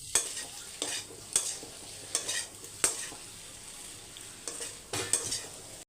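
Potato fry stirred and roasting in a pan, with a steady low sizzle broken by sharp scraping strokes of the spoon at irregular intervals, close and fairly quiet.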